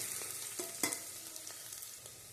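Tempering for Gujarati vegetable khichdo sizzles steadily in a pan with green garlic leaves, with a few soft stirring clicks over the close, continuous frying hiss.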